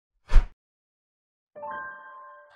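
A short electronic notification bell effect: a low soft thud, a brief pause, then a bright chime that holds and slowly fades.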